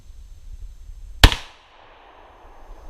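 A single sharp shotgun blast from a Remington 870 firing 00 buckshot at an outdoor range target about 20 yards away, loud and abrupt, with a short decaying tail after quiet background.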